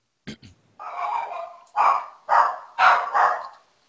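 A small 13-pound dog barking close by, a couple of short yips followed by several loud, evenly spaced barks, with no one talking over them.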